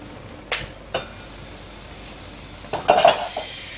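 Onions sweating in a lidded pan on the lowest heat, giving a faint, even sizzle punctuated by a few clanks of the lid and a utensil against the pan.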